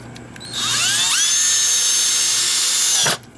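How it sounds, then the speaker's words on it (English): A power drill bores through a door hinge using a centering cone bit: a sudden high whine starts, holds steady and loud for about two and a half seconds alone, then cuts off abruptly. "when you push it in, the drill comes out through the center of the hole"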